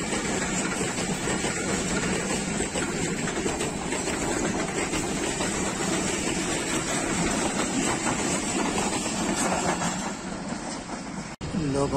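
The Pakistan Railways Awam Express rolls past on a single-line track in a steady, loud, continuous rumble of wheels and wagons. A faint rhythmic clatter sounds under the roar, which drops off sharply near the end.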